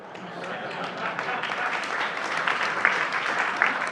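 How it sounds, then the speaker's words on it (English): Audience applause at a Bitcoin treasuries unconference in New York, building gradually from a quieter start into steady, moderately loud clapping from a seated crowd. "He gets applause for 5 words."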